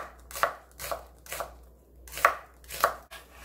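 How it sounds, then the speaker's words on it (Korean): A knife slices through a fresh new-season onion on a cutting board, making five crisp, evenly spaced thuds close by, each with a short crunchy edge, and no talking. "썰어서 넣어줄게요"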